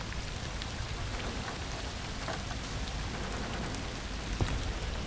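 Soft, continuous rainfall patters over a tent and muddy ground in the video game Portrait Of A Torn, a quiet wash of drops with a few sharper individual hits, no talking.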